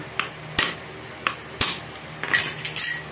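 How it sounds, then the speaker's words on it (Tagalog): Light metallic taps from a hammer on an electric fan shaft, about six or seven sharp strikes at uneven intervals, close by with a faint ringing after some hits. "So pukpok lang tayo ng konti mga idol."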